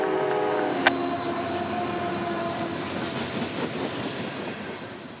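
A CSX freight train led by rebuilt locomotive 7276 rolls past in a steady, broad rumble with rail rattle and wheel noise, a brief horn-like tone early on, moderately distant and with no talk.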